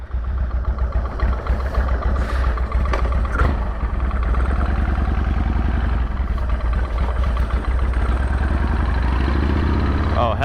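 A 1998 Harley-Davidson Sportster engine idles steadily and close by after nine months of storage, a loud continuous low rumble with some clatter, while people talk over it.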